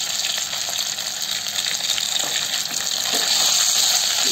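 Cut idli pieces frying in hot oil with curry leaves: a continuous, bright, loud hissing sizzle heard close and steady throughout, without talk.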